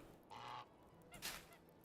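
Geese in a video game give two faint honks a short moment apart, each a nasal, buzzy call set against a steady, quiet background hiss.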